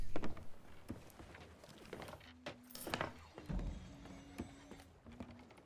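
Fireworks go off in the pirate video game Sea of Thieves as a scattered series of sharp pops and crackling bursts with faint whistling tones, fairly quiet over soft game ambience.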